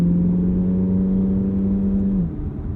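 A Chevrolet Corvette Z06 with a flat-plane V8 cruises on a road, its engine holding a steady smooth drone heard from inside before the pitch eases off near the end.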